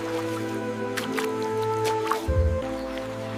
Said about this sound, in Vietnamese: Người đàn ông lại dùng tay múc nước lên uống, nước nhỏ giọt